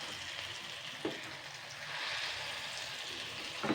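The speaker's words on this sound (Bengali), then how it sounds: "তো এইভাবে কিন্তু আমি লাল লাল করে ভেজে নেব।" Brahmi leaf and red lentil pakoras frying in hot oil, a steady soft sizzle and bubbling at close range with a couple of brief clinks, no voices.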